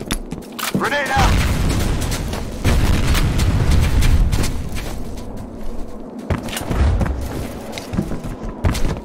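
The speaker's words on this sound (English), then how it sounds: "Grenade out! Grenade out!" A grenade explodes in the F.E.A.R. Combat video game during a capture-the-flag match, with loud booms and gunfire under a continuous mix of game noise and shouted voice callouts.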